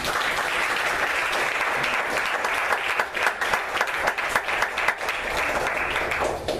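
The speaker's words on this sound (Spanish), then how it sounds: "Denle un aplauso al Señor." A church congregation at a Christmas service bursts into sustained applause, dense clapping from a large crowd that swells and fades slightly over several seconds.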